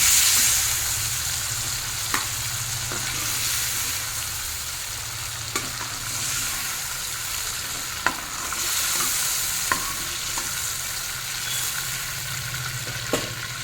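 Prawns fry in oil in a pan for a Bengali prawn malai curry with raw mango, giving a steady close sizzle throughout with a few sharp clinks of a utensil against the pan and no talking.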